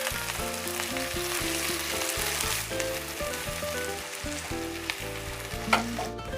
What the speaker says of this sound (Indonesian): Saya masukkan dulu bawang merah, bawang putih yang sudah dirajang atau diiris tipis. Ditumis-tumis ya sampai mengeluarkan aroma yang harum.